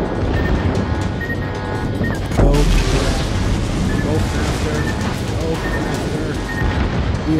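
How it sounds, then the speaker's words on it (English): Heavy booms from torpedo hits striking a warship in the naval combat game World of Warships, with a sharp loud impact near the middle over constant rumbling battle noise and engine drone, and a voice talking throughout. "We are just being pummeled by torpedoes."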